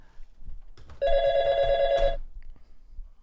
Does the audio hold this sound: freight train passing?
no